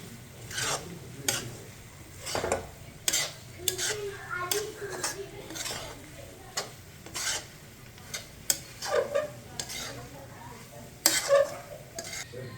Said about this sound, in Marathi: हे छान मिक्स करून घ्यायचं।